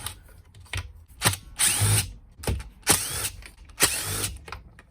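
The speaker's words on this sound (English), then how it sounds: "I'm using a 5/32 hex bit, Allen. There's 3 bolts deep down inside here." Power driver with a 5/32 hex bit backing out bolts on a Weed Eater edger, with several short whirring bursts and ratcheting clicks between them, close and fairly loud.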